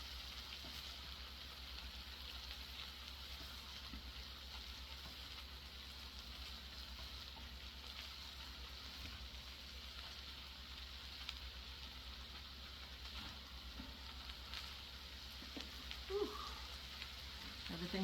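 Potatoes with onions sizzling in a small, overfull stovetop pan as they are slowly stirred, a faint, steady crackle with occasional scraping clicks, while a voice talks intermittently over it.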